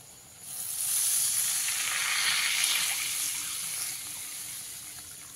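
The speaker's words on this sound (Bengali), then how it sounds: "এবারে এর মধ্যে আমি পরিমাণ মতন জল দিয়ে দেব।" Water poured into frying masala for a hilsa and aubergine curry, a loud hissing rush that swells in, holds for a few seconds, then fades back to a softer simmer.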